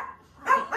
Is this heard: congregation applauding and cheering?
no